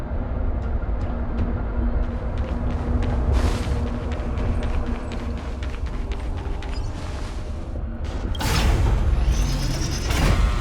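A heavy gate mechanism in Honkai Star Rail grinds and creaks continuously with dense mechanical rumble, bursts of clanking louder toward the end, no speech.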